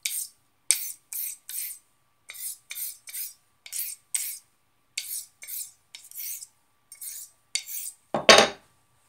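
A straight razor's bevel being set on a worn DMT 600 diamond plate: a run of about seventeen short, crisp scraping strokes in a steady back-and-forth rhythm, close and isolated, ending on a louder, longer rasp.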